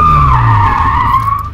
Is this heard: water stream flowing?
no